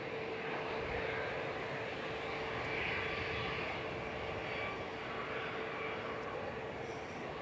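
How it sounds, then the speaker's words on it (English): Airbus A319 taking off in a breeze at Manchester Airport, heard from a distance as a steady, moderately faint engine roar that swells slightly near the middle and then eases, with no voices. "That breeze is definitely affecting them a little bit when they're taking off."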